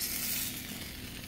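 Sausages and bratwurst sizzle steadily while frying in a churro maker, a close, continuous crackling hiss with no voices.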